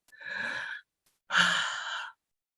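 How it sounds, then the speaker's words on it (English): A person draws a deep breath in and then lets it out in a long sigh, two soft, breathy sounds separated by a short pause, close by and alone. "So I want you to literally take a breath."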